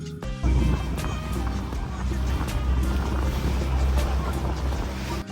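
A speedboat pulls away from a sea cave with a steady loud engine drone and wash of water around it, continuous and close throughout.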